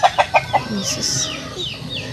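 A chicken clucks in a quick burst of four short notes, then softer chirping and bird calls continue in the background.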